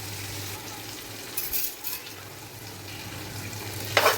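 Chicken sautéing with onion and tomato in a pan for biryani gives a steady, soft sizzle, with a few brief stirring scrapes and a faint clink near the end.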